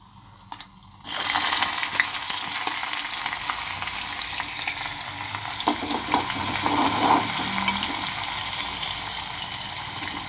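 Onions and chopped vegetables frying in oil for vegetable upma, a loud, steady sizzle that bursts in after a brief quiet start and continues close up with faint stirring scrapes.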